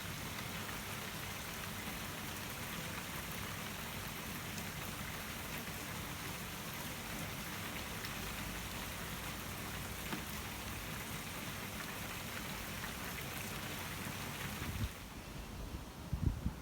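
Steady rain falling on a garden, an even dense patter with faint wind, continuous and moderately quiet, easing into sparser drips near the end.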